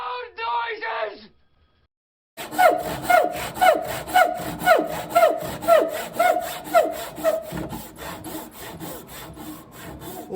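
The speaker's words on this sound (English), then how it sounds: "Now I'll angle the saw slightly back, dropping the handle as I go." A hand saw cuts through wood in steady, rhythmic back-and-forth strokes, close and loud, after a brief spoken line and a short pause; the saw is angled back, handle dropping.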